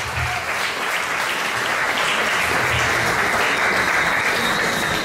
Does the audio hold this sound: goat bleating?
no